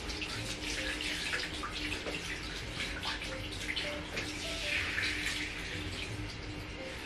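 Tap water running steadily over a pet's fur during a rinse at a sink or tub, a continuous close splashing gush with shifting spatter, no speech over it.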